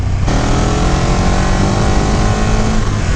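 A 2018 KTM 1290 Super Duke GT motorcycle's stock exhaust roars continuously at high revs, loud and close, with a steady droning growl.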